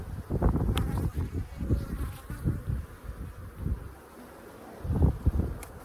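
Honeybees buzz steadily around an opened hive during a farm inspection, a dense close drone swelling and fading with passing insects, mixed with light wind noise.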